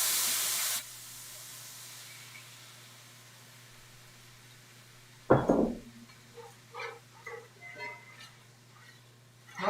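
Red wine poured into a hot pan while cooking chicken tikka masala gives a sudden sizzling hiss that quickly fades into a quiet bubbling simmer, with some soft kitchen clatter after it.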